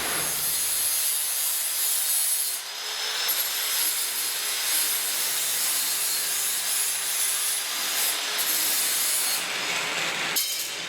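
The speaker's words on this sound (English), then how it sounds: "I have to knock that off and do a little grinding just to smooth it out, a little sanding" Steady high-pitched grinding and abrasive rubbing on metal, continuous and close, with slight shifts in pitch as the tool moves.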